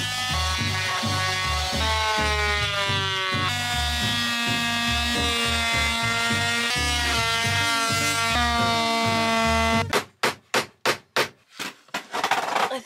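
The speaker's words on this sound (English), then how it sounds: "I'm just going to use the multi-tool to cut it out." An oscillating multi-tool cuts a marked line through a plywood hatch door, giving a steady, loud harmonic buzz whose pitch shifts as the blade loads. It ends in a series of short, sharp bursts as the tool stops and starts.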